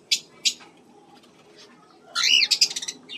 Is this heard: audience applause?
no